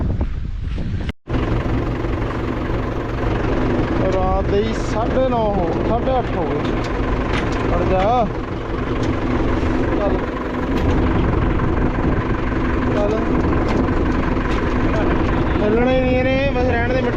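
A Mahindra 575 tractor engine runs steadily and loudly throughout, with a continuous low rumble and a few rising and falling tonal sweeps, while people talk nearby.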